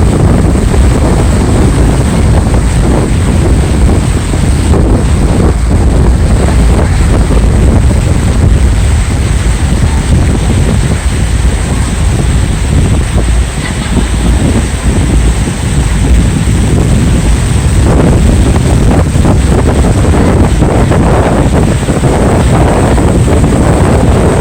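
Strong wind buffets a sportfishing boat at sea off La Paz, a loud continuous roar of gusts and microphone rumble mixed with water and engine wash, with no voices.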